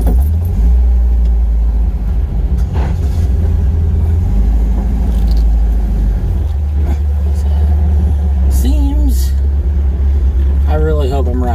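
An old beater car's engine runs with a loud, steady low rumble while driving, with road noise throughout and a voice briefly speaking near the end.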